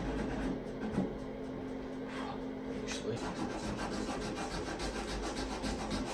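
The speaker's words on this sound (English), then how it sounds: "So we'll just do a quick sand here." Sanding cured epoxy on a small model tug boat hull: continuous close rasping friction strokes with a steady texture throughout, no talking.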